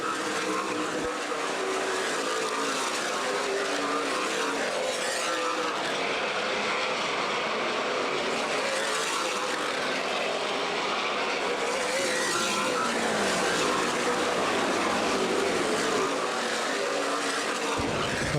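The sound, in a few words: race cars racing at Anderson Speedway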